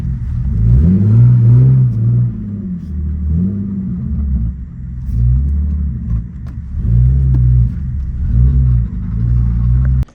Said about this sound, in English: See, it's jumping idle a lot right now.